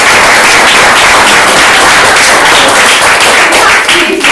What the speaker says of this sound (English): That's the easiest round of applause I've ever got.